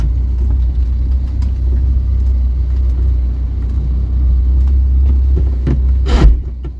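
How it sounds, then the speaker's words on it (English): A Vauxhall Viva engine runs with a heavy, steady low rumble close by, and a brief harsh scrape near the end suggests the gears grinding. "Why is it grinding the gears like that?"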